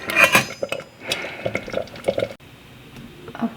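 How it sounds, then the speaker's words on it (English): A lid goes onto a pot of cooked fava beans with metallic clinks and scrapes, alongside soft dripping and liquid sounds, close and fairly loud, quieting after a brief drop near the end. "I'm gonna cover it."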